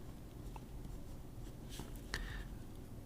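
Broad 14 karat nib of a Pelikan fountain pen scratching across paper in a few brief, soft strokes, faint and close, with a slightly uneven, skipping ink flow.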